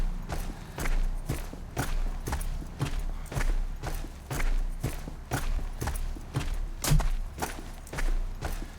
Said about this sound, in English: These are footsteps of soldiers going into battle.